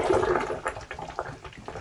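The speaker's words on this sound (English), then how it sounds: "once you get too much water in your gray tank, it's going to start coming out the lowest drain" Grey water gurgles and splashes as it backs up out of an RV shower drain from a full grey tank, a close, continuous churning, bubbling wash of water with no talk.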